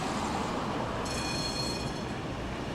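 Steady rumbling of a tram rolling along the track in Dnipropetrovsk, with a thin high squeal of wheels on rails joining midway.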